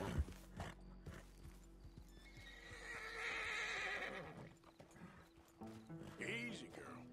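A horse in the video game Red Dead Redemption 2 lets out a long, loud whinny, framed by hoof clops and snorts at the start and near the end.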